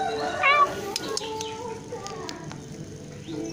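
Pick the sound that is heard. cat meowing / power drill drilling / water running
cat meowing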